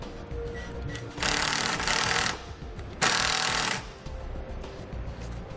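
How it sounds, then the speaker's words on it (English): A 5/16 inch bit driver tightens a clamp bolt while a Roadmaster InvisiBrake flat tow brake system is installed on a 2016 Jeep. Two loud bursts of whirring, about a second each, stand over a quieter background. "Then we'll use a 5/16 inch bit driver or socket and secure it down."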